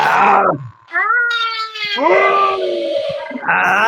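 A person mimics a cat, giving a few drawn-out, wavering meows at close range with short gaps between them.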